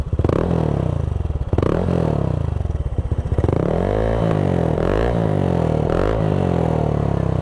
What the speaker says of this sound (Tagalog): Ayan, yan yung tunog ng CRP power pipe.